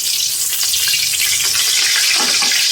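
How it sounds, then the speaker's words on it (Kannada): Food fries in a wide, deep-bottomed pan, giving a loud, continuous hiss and crackle close by with no talk over it. "ಇದು ಫ್ರೈ ಆಗ್ತಿದೆ"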